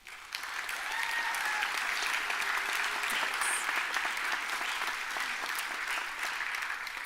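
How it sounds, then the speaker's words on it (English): Sustained, dense audience applause fills a nursing pinning ceremony hall, steady and moderately loud for several seconds without a break. "so please a round of applause for them"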